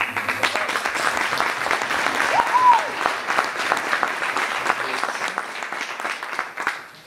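Audience applause at a community awards banquet, a steady wash of many hands clapping at moderate loudness, sustained throughout without voices.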